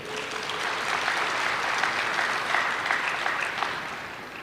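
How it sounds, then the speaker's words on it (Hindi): Loud, sustained clapping from a seated audience at a spiritual discourse, a dense, even wash of many hands clapping throughout with no voices over it. "इसलिए आप जोरदार ताली बजाओ।"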